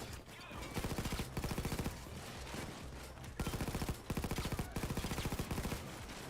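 Rapid bursts of Union rifle fire in a heist video game, several quick volleys of evenly spaced shots, loud and close, separated by short pauses, over a constant background hum.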